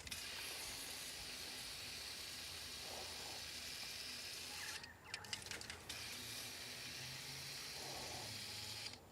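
A steady, loud hiss of aerosol spray being sprayed into a Subaru WRX engine with a hesitation problem, almost continuous, briefly interrupted once by clattering mechanical noise before the hissing resumes.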